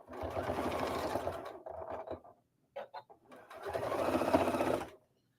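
A Janome Skyline S7 sewing machine sews polar fleece to polar fleece in close, moderately loud bursts of fast whirring. Short stops and a few brief stitches come between two longer runs, with no talk over the motor.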